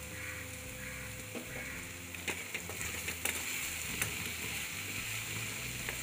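Vegetables seasoned with garam masala cook slowly in a pan on low heat, giving off a soft, steady sizzle with a few faint clicks and scrapes.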